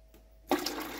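Water is poured into a portable countertop ice maker, a short splashing gush that starts abruptly after a quiet moment and continues loud to the end.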